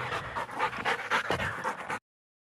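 A hunting dog, a Braco pointer out on a quail shoot, pants rapidly and steadily up close, the quick breaths continuing until the sound cuts off abruptly.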